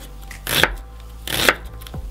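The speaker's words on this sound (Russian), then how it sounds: "Теперь у нас в ход идет красный лук. Нарезаем кубиком." A knife dices red onion on a cutting board into small cubes for vinaigrette salad, giving two crisp, close chopping strokes about a second apart against a quiet kitchen background.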